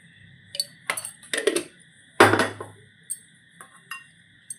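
Curd being whisked with salt in a bowl, with a series of sharp clinks and taps of a utensil against the dish, irregular and spaced out, with quiet gaps between strikes.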